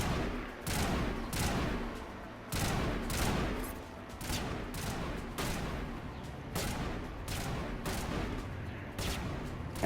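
Gunfire in the video game Mass Effect Legendary Edition: loud, dense volleys of shots arrive as repeated bursts about every second or two, with continuous crackling fire between them.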